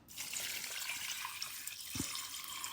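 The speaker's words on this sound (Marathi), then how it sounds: "कट करून झाल्यानंतर आपल्याला पाण्याने दोन ते तीन वेळा स्वच्छ धुवून घ्यायचे आहेत" Water runs steadily into a kitchen sink as cut boneless chicken pieces are rinsed, a continuous close splashing hiss that lasts throughout with no voices.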